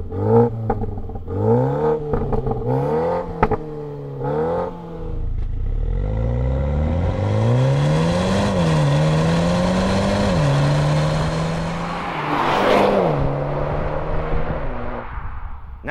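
A new BMW M135i four-cylinder engine is revved several times in quick blips, then held at a rising, sustained rev before settling, loud and close.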